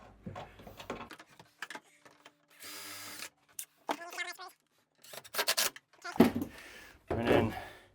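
A power drill pre-drills holes while a fiberglass shower unit is installed, running in short bursts of whirring with brief gaps and scraping between them, close by.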